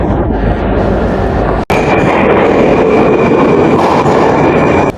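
A Tashkent metro train runs in a station with a loud, steady rumble and wheel roar, a faint whine above, and a brief sharp dropout partway through.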